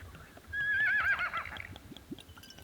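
A horse whinnies once in a remote Australian alpine wilderness, a fairly loud wavering neigh lasting about a second, followed by faint hoof shuffles and background noise.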